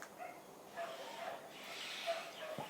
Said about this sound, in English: the other dogs are barking